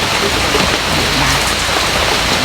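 Heavy rain pours steadily, a dense, loud hiss of drops hitting a surface with no pauses.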